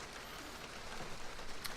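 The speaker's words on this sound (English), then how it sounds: "the fierce sound of rain striking against the canvas" Steady rain drums on tent canvas, a dense, even patter of drops that fills the space without pause, with no voices over it.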